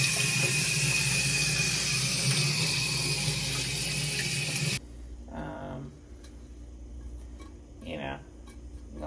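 Water rinsing Citristrip paint stripper off an engraving, a loud, steady rush of running water for several seconds that stops abruptly, followed by quieter room noise with brief sounds that may be voices.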